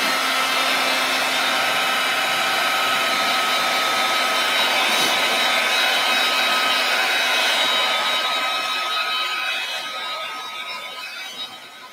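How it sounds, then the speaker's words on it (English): A heat tool blows on a mixed media canvas, giving a steady, loud whooshing whine that holds level for most of the time before tapering slightly at the end, with no talking. "I'm going to hit this with my heat tool really quickly."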